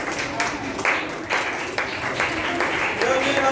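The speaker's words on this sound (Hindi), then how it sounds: "तो इनके लिए भरपूर तालियां बजा दीजिए।" A gathering at a catechism teachers' training event claps in a loose, moderate round of applause, with scattered individual claps standing out over a murmuring room.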